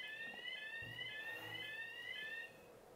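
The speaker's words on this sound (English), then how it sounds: "They hear a fire alarm." A fire alarm rings in rapid, repeating high electronic tones over a faint low rumble in a dark, dank underground chamber, staying fairly quiet throughout before easing off near the end.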